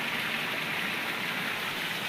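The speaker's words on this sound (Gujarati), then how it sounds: "પછી વાલ ખોલો એટલે નીકળી જાય પાણી" Water drains out through an opened valve as a steady, even rush of splashing flow that holds constant for the whole moment.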